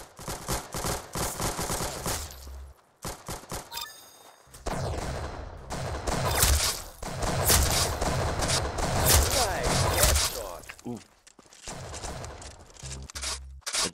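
Video game gunfire in bursts of rapid shots across most of the stretch, with pauses between volleys, loud and close, while players talk over it.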